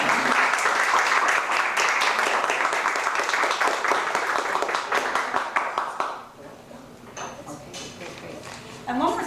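Audience applause at a youth leadership graduation ceremony, a loud, dense burst of clapping for about six seconds that then fades to sparse scattered claps and quiet room tone.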